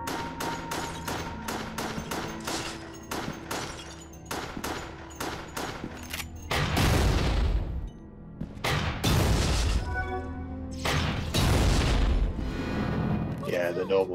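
Grenade explosions in a video game: rapid bursts of gunfire followed by several loud, booming blasts in quick succession, dense and close throughout.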